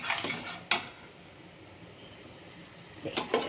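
Honey and palm candy are stirred in a metal pot, with a few sharp clinks and scrapes of a utensil against the pot at the start and end around a quiet low hiss.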